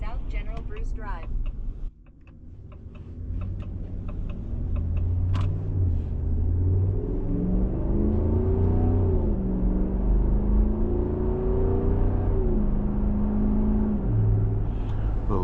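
A 2026 Ram 1500 pickup with a V8 Hemi engine, driven at night under light throttle of about 45%. A low, steady engine rumble rises gently and holds, with road noise around it and a voice speaking over it.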